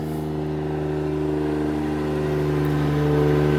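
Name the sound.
Toyota Soarer car engine revving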